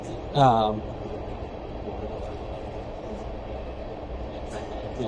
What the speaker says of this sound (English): there is a train going through right now.